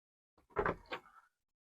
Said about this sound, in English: Okay, door into my room.